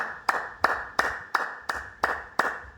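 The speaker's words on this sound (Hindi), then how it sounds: "वॉकिंग करने के बाद आपको ये ताली बजानी है, इस तरीके से 50-100 बार ये ताली बजा लें।" Seven sharp hand claps at a steady, unhurried pace, spaced roughly a third of a second apart, done as a breathing-and-clapping exercise after walking; each clap is crisp and close with a short decay, and no one speaks.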